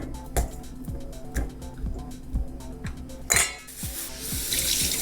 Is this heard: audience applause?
no